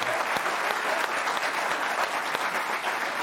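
Studio audience at a late-night comedy talk show cheering and applauding, a steady dense wash of clapping with crowd whoops throughout, loud and close, no talking over it.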